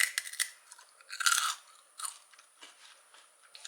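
Close, crisp crunching of a crunchy sweet potato piece dipped in sauce being bitten and chewed, with a loud burst of bites in the middle and softer chewing crunches around it, no talking.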